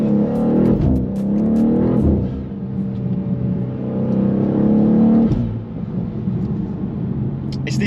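A BMW G87 M2, modified for about 600 hp, accelerates hard. Its loud engine drone climbs steadily in pitch and stays constant, close and dominant throughout.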